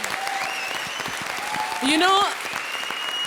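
Dense comedy show studio audience applause fills the whole stretch, steady clapping throughout, with a voice speaking briefly over it near the middle.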